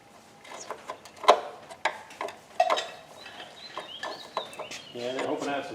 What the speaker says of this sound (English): it's just our pet chickens.